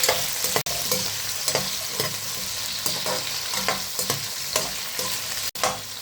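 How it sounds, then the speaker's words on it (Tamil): Okra sautés in a pan with salt for vendakkai puli kulambu, a steady close sizzle broken by repeated spatula scrapes and taps at an uneven rhythm. "வெண்டைக்காய் வந்து நல்லா வதக்கி எடுத்துக்குவோம்"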